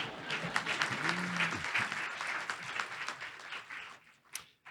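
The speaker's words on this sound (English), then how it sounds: "All right, that should get some applause." Audience applause at a school district State of Our Schools address, a lively burst of many hands clapping that swells and then thins out toward the end, with a brief voice heard under the clapping.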